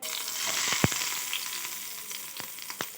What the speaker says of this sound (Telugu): ఇప్పుడు వచ్చేసి ఉల్లిపాయ ముక్కల్ని వేసుకుందాము